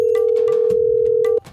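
A steady, loud telephone dial tone hums continuously after the handset is picked up to call an AC repair service, cutting off abruptly near the end.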